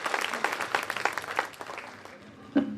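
Audience applause at a Hindi comic poetry gathering (hasya kavi sammelan): steady clapping that rises and falls for a few seconds, fairly distant and moderate in level, ending with one louder thump.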